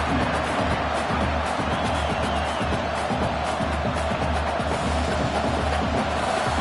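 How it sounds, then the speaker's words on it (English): Dense, steady roar of a football stadium crowd cheering on the defense during a red-zone stand at a college game, loud and continuous throughout with no clear peaks. "The crowd getting behind this defense as they try to get a stop in the red zone."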